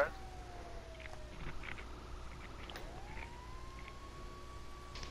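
A distant fire truck siren in GTA V slowly winds down, then rises again and holds a steady high tone over faint background hum.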